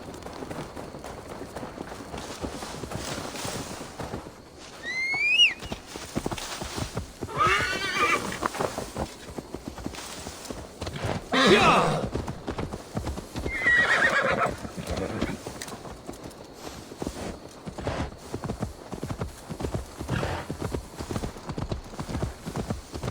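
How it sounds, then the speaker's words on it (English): Steady clip-clop of horse hooves at a canter in Assassin's Creed Valhalla, with a couple of shrill whinnies rising above the hoofbeats partway through. "Now to deliver Magni his horse."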